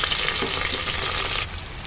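Steady, dense sizzling of two large chopped onions frying in a hot pan for mint rice, close and loud, with the hiss dropping slightly near the end.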